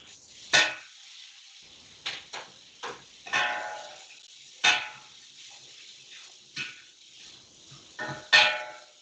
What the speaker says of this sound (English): It's a nice sizzling noise